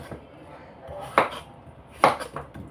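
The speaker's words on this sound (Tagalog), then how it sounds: "we need to slice our beef" A knife slices beef on a cutting board for a beef stew with white radish: a few distinct, close chopping thuds spaced about a second apart over quiet kitchen background.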